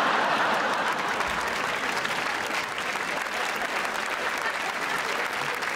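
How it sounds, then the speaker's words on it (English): Comedy show audience breaks into sustained applause, a thick, even wash of many hands clapping that holds steady throughout. "you notice how they all started clapping right there?"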